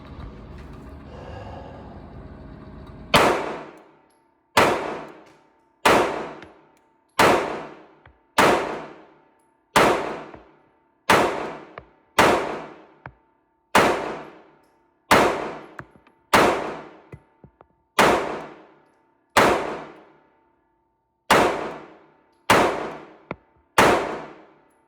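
Pistol shots ring out one at a time at an outdoor shooting range, fired at a target. The string of about fifteen loud, sharp reports comes at a steady, unhurried pace, and each shot dies away in a ringing echo before the next.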